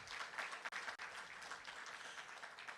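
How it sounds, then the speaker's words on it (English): Applause from an audience at a youth business forum, a steady wash of many hands clapping that runs throughout at a fairly quiet level with two brief dips. "Let's give David another round of applause"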